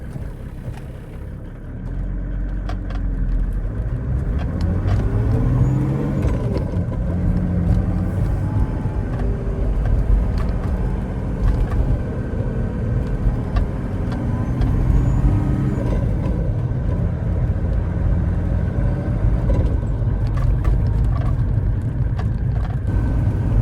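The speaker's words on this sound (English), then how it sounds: "The car is running with the 6mm DPUK pump, so let's go for a drive." A Mercedes-Benz OM606 diesel engine with a mechanical injection pump runs steadily with a low rumble and road noise while driving, rising and falling slightly as it moves along, with no talking.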